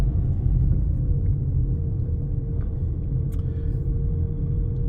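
Car pulling away from a 30 zone with a learner driver at the wheel, a steady low engine rumble inside the cabin, loud and even, with a faint rising tone and a brief click near the end.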